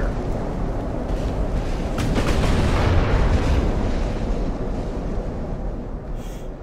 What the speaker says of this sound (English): You got hit by a 17-inch gun